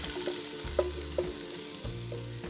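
Chopped garlic sautéing in oil in a pan for a minute while making tomato basil soup, a steady soft sizzle with a few light clinks and scrapes of a utensil, no voices.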